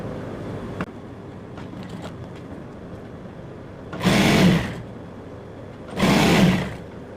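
A sewing machine stitches a trouser belt in two short bursts of fast whirring stitches, each about a second long, separated by quiet handling noise.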